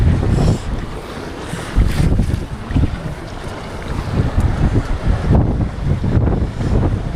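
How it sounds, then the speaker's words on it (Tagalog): Strong wind buffeting the microphone in loud roaring gusts, with open-water noise beneath it, on a fishing trip off Taiwan. "At malakas lang ang hangin."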